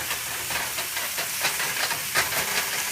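Vegetables for pansit bihon sautéing in a wok: a steady, loud, close hiss and sizzle with faint rhythmic clinks running through it, no voices.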